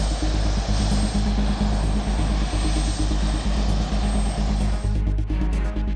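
Engines of a C-17 Globemaster transport aircraft, a loud, steady droning roar with a pulsing low rumble that holds throughout, close and alone.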